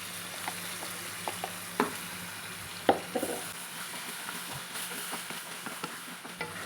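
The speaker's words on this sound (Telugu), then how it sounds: "కొద్దిగా నూనెలో ఫ్రై కానిస్తాము" Ground spinach paste fries in a little oil, giving a steady close sizzle broken by occasional sharp spatters and soft stirring scrapes.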